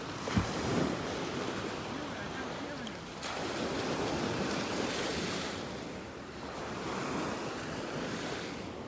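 Ocean surf meets a strong current at a beach pass in North Naples, Florida, on a morning walk: a steady, loud wash of breaking waves with gusty wind noise on the microphone, no voices.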